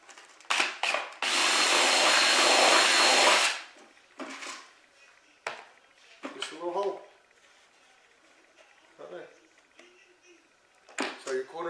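A drill bit whirs into a bucket in one burst of about three seconds, followed by scattered clatter and brief speech.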